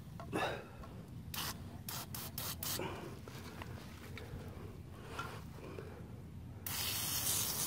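Cleaner is sprayed in several short, close, loud bursts into a diesel particulate filter from a Mercedes OM642 diesel engine, followed by softer hissing and a longer final spray.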